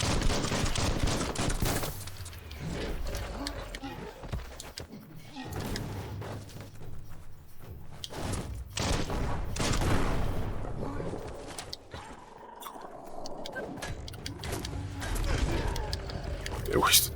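Enemy gunners in the video game Biomutant open fire with rapid bursts of gunshots and heavy thuds, loud and repeated throughout, while someone talks over the shooting.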